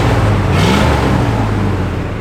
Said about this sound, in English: Rev again, Nathan